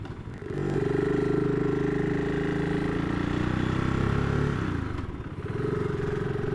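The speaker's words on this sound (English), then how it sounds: "Sounds absolutely marvellous. Lovely throb to that 650 engine." A BSA Gold Star 650 motorcycle engine idles with a deep, steady throb, close and loud, dipping briefly before settling back into its even rumble.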